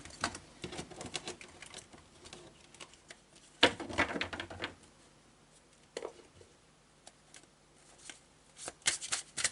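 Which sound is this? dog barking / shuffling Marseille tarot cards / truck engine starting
shuffling Marseille tarot cards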